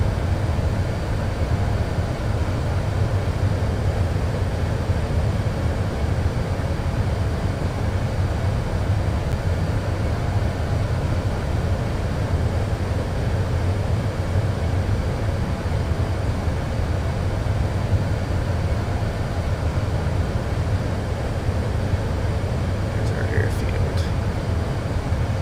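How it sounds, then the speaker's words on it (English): Engines of a FlyByWire A380X airliner idle in Microsoft Flight Simulator 2024, a steady low drone and hum holding constant throughout, with a faint brief chirp near the end. "We're just letting the plane idle."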